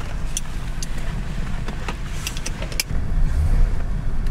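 A 1981 Chevy Corvette pulls away from inside the car, the engine rumble growing louder as it moves off, with a few light clicks and knocks from the cabin and no talk.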